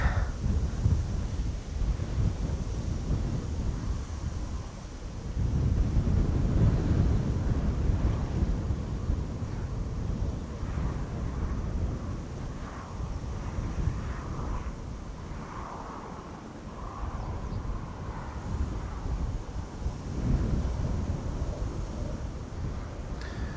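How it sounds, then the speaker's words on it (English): Steady, heavy wind at Schiphol Airport buffeting the microphone, a low rumbling roar with gusts swelling and easing throughout, no voices. "Pretty windy here today."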